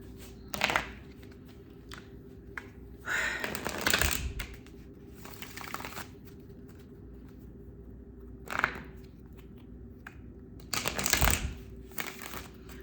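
Playing cards riffled and shuffled several times in bursts, with quieter handling and light tapping in between, close by over a low steady hum.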